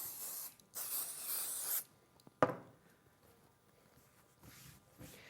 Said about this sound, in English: And then fold the other bit back and spray there.